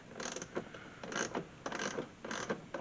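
Mechanical creaking and ratcheting as an 8mm bolt is loosened and removed from the radiator access panel of a 2016 Scion iA, in four short bursts close up.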